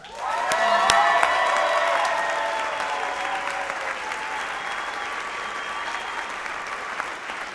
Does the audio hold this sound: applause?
yes